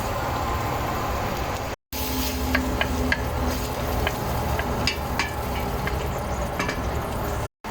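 Tomatoes sautéing in a pan, a dense continuous sizzle with scattered small pops and crackles, fairly loud and close, broken by two brief dropouts.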